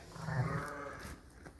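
Two lambs bleat nearby on a sheep farm, a wavering, voiced cry lasting about half a second, then fainter bleating and rustling continue.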